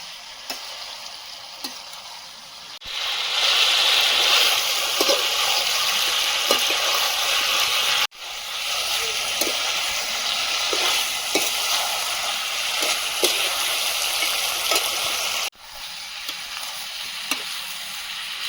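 Chicken with capsicum and potato in a pan, a loud steady sizzle, close, with stirring scrapes and clicks and several abrupt breaks in the sound.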